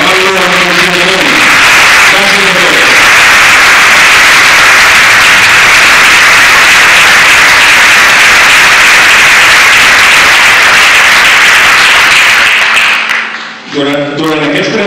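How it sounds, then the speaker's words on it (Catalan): A large crowd at a Catalan political rally applauds loudly and continuously for over twelve seconds before the clapping fades and a voice returns briefly. "Un fort aplaudiment per a ells i per a tots els treballadors d'aquest país"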